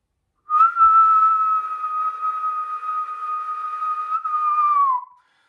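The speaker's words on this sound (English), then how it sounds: "I'm going to teach you guys how to whistle extremely loud" A single very loud lip whistle held as one steady, piercing tone for about four and a half seconds, with a slight wobble and a quick downward slide at the end, heard alone with no talking.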